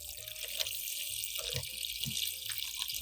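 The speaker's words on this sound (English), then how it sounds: "Add a little water to wet the ginger." Tap water running steadily into a sink over small broken pieces of fresh ginger, a soft continuous splashing stream with light drips, fairly quiet and close.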